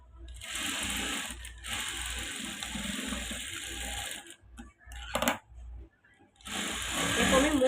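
Sewing machine stitching a blouse runs in steady fast bursts, loud and close, with brief pauses and a short clack near the middle before the motor starts up again.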